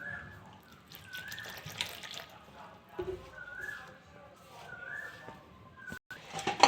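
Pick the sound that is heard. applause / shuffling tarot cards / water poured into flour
water poured into flour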